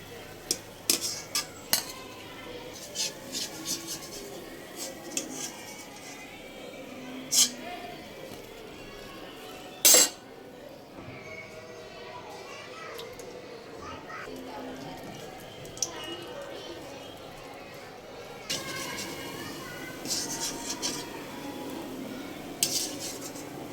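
Scattered clinks and scrapes of a utensil against a metal pan while lifting fried biscuits out, with one sharper clank partway through, over faint background murmur.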